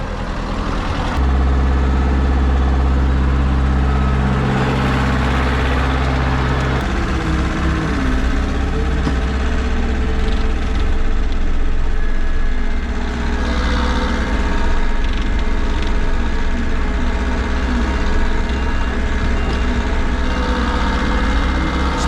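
A Zetor 7211 tractor engine runs on a farm, a loud, steady low diesel rumble that holds throughout with no talking.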